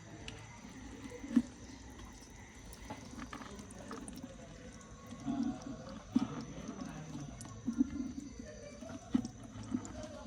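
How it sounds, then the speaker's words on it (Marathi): Water falls and drips just after the rain has stopped, a soft, scattered patter of separate drops near and far with some light trickling, fairly quiet and heard on its own. "आत्ता पाऊस थांबला आहे. बघा बघू शकतात तुम्ही, पाणी पडत आहे."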